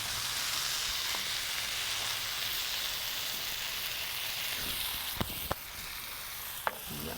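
Bread rolls toast in a pan with steak juices, sizzling and frying in a steady, close hiss, with a few sharp clicks of utensils near the end.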